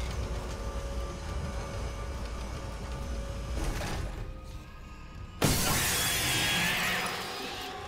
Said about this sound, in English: I actually did jump when it busted through the glass